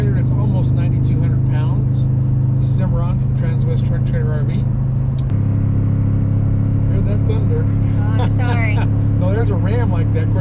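A 2021 Toyota Tundra TRD Pro pickup tows a nearly 9,200-pound Cimarron trailer in the Rockies. A steady, low engine drone runs throughout, with people talking over it inside the cab.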